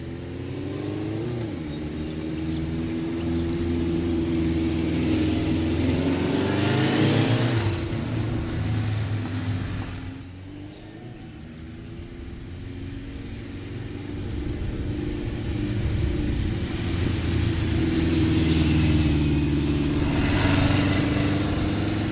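Several Honda CB750 motorcycles start up and rev outdoors, their engine rumble rising and falling in repeated loud swells over a steady idle with no speech.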